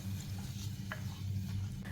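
A spoon stirs brinjal masala thinned with water in a pan, giving a soft, close, continuous wet scraping and gentle sizzle at low volume, with one brief clink partway through.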